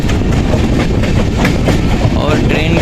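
Sleeper-class coach of an Indian Howrah Mail train rolling along, dense steady wheel rumble and rail clatter filling the whole stretch as another train runs past on the neighbouring line, loud and close throughout.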